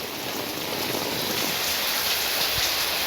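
Rain falling in Jaffna on a dark evening, a steady dense hiss of drops on surfaces that holds at an even level throughout, with no voices.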